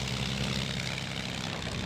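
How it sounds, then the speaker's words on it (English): A 15-ton Avro Lancaster bomber taxiing out to the runway, its piston engines and propellers giving a steady, loud, low droning rumble that holds evenly throughout, with no voices. "some 15 tons of Lancaster begins to move, taxiing out to the runway"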